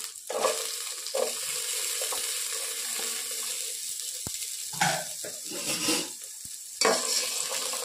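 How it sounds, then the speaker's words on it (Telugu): Onions and green chilies fry in hot oil for chicken biryani, a continuous sizzle broken by several bursts of stirring and scraping in the pan, close and fairly loud. "ఇప్పుడు ఇవన్నీ వేగిన తర్వాత ఇందులో ఆనియన్స్, పచ్చిమిర్చి వేసుకోవాలి."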